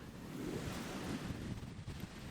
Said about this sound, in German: Jetzt sind wir gerade direkt am Meer.